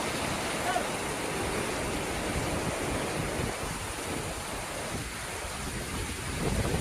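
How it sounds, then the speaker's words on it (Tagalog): Heavy storm rain pours steadily over a campsite during a typhoon, a loud dense roar that stays constant throughout with no breaks. "Grabing ulan."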